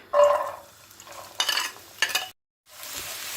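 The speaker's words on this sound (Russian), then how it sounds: "Будем обжаривать, пока лук не станет такой золотистого цвета." Diced onion and carrot fry in about two tablespoons of olive oil in a pan, with a bright sizzle that swells in bursts as the pieces are stirred, drops out briefly, then returns to a softer, steady hiss.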